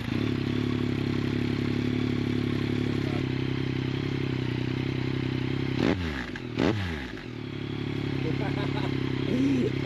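A Yamaha MT09 SP motorcycle with a full Akrapovic decatted exhaust idles loud and steady at close range, then blips its throttle in two sharp revs partway through before settling back to idle.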